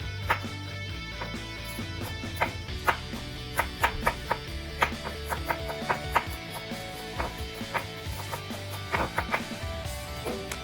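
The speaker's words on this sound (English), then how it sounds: "after slicing and cutting this into pieces" A knife slicing and cutting vegetables for coleslaw on a board, steady sharp chops in uneven bursts close up with no talking.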